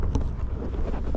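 Strong wind gusting through the channel between the islands of Santo Antão, roaring steadily and loud in the microphone with a low, rushing rumble throughout and no voices.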